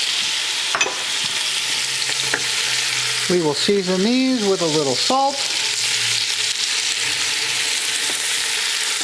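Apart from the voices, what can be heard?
onion, carrots and mushrooms frying for coq au vin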